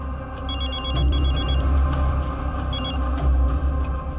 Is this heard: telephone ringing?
yes